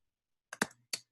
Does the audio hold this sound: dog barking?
no